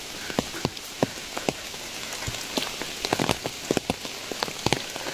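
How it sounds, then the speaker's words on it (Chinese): Rain patters steadily on a mountain trail in the Qinling range, a dense hiss broken by irregular nearby drips and taps, heard alone without voices. "听着雨声"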